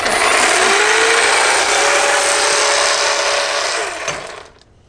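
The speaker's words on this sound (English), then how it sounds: "She used a shorter hedge trimmer." Short hedge trimmer cutting a garden hedge, a loud continuous buzzing motor with slight pitch wavering, steady for about four seconds before winding down and cutting off.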